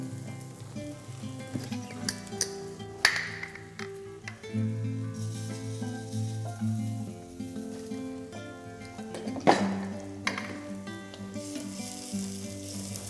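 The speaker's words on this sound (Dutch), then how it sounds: "Het roeren in de rijst is heel belangrijk, want dan komen die zetmelen los" Rice for risotto sizzles in a pot and is stirred with scraping, shuffling sounds that come in soft bursts, up close and fairly quiet.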